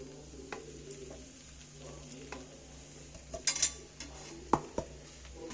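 A beetroot and carrot mixture with fried spices stirred in a pan over gentle heat: soft sizzling under intermittent scraping and clinking strokes of the spoon against the pan, close and quiet.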